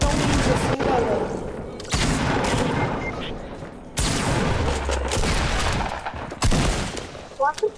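Rapid bursts of Fortnite gunfire crackle through the clip, with several loud volleys and sharp shots mixed with voices talking over them.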